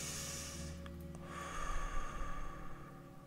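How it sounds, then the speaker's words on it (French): A single audible breath is drawn in and released close by during a quiet French guided meditation, with soft background tones and no talk. "Une respiration."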